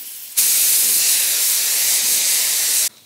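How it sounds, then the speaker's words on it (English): A spray can of primer hisses loudly and continuously for a few seconds on a 2007 Subaru STi, starting abruptly and cutting off just as suddenly. "Let's go ahead and spray it on some primer."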